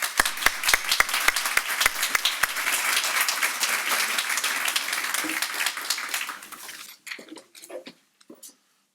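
Audience applause welcoming Sheldon Levy to the podium at a strategic planning speaker series, a dense sustained crowd clapping with a few loud individual claps at the start, fading into scattered last claps.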